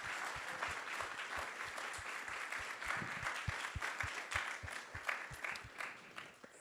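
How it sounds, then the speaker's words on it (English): An audience at an ISKCON temple in Silicon Valley applauds after a discourse, many hands clapping in a fairly soft, steady patter that lasts several seconds. "So let's give him a big round of applause."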